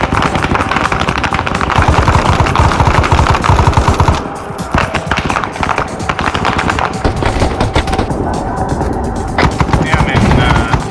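Sustained automatic gunfire in a Half-Life shootout rattles loudly and densely in rapid bursts, dipping briefly partway through before resuming at full intensity.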